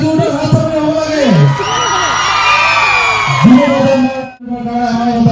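At the Magh Bihu Mela in Dhemaji, a crowd cheers and whoops loudly for a singer, with shouting voices rising and overlapping before a brief drop, then picking up again.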